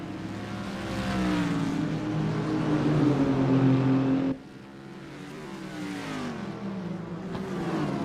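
Several GT4 race car engines in a sim racing game at Barber Motorsports Park, a steady loud engine drone that drops sharply partway through and then continues at a lower level.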